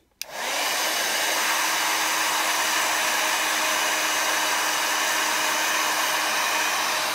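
A loud heat embossing tool switches on abruptly and roars steadily with a constant hum, blowing hot air without pause.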